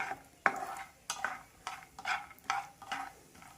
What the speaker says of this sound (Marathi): हे तेल गरम झालंय यामध्ये शेंगदाणे टाकून एक दोन मिनिट परतून घ्यायचे